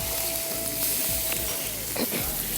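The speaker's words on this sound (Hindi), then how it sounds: "ये पनीर अलग से हम फ्राई कर रहे हैं" Paneer cubes frying in butter in a pan, a steady broadband sizzle throughout with light clinks of a utensil, fairly close and without talk.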